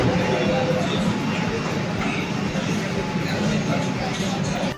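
A Kolkata metro train pulling into a station, a steady loud rumble and rail noise filling the platform throughout, with people talking underneath.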